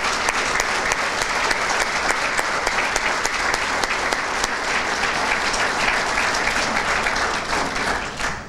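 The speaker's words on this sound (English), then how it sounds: "Let's give them an applause." A business award ceremony audience bursts into sustained, dense applause that holds steady for several seconds before tapering slightly at the end.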